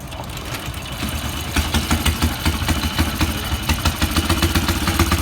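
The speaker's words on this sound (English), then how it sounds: "he's going to start this little Harley Davidson up for us. And it's got a little whizzer motor in it." A recreated 1910 Harley Davidson fitted with a small whizzer motor starts and runs, a close, loud popping putter that steadies into a fast, rhythmic chugging beat.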